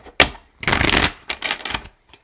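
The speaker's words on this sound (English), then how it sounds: "All right, so 2 more shuffles." A deck of cards being shuffled up close, a sharp riffle snap followed by a longer rustling burst and a few shorter flutters, loud and alone with no talk.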